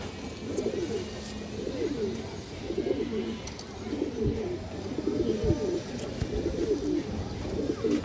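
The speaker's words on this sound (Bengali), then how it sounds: "বাঘা প্যাটার্নের জাবরা একটা মাদি কবুতর" Pigeons, including a female, coo in repeated low, throaty phrases at a steady rhythm, close by, with occasional soft thumps and background noise.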